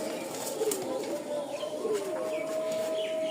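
Pigeons coo softly, with low rolling calls close by that repeat a few times under people talking among birds kept for display.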